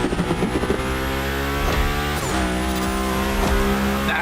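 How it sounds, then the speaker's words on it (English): Car engine in The Crew Motorfest racing game sliding sideways, a loud steady drone of revs with harmonic engine tones and rising tire squeal layered over it, close and continuous with no talk. "Go slide his line, just follow his tire tracks."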